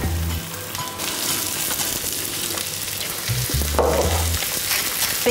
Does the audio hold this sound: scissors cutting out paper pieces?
no